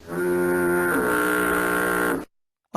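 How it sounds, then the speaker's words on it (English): A foghorn effect lets out one long, deep, steady blast lasting about two seconds. It is loud and close, then cuts off abruptly into silence. "So for example, I can hit the foghorn."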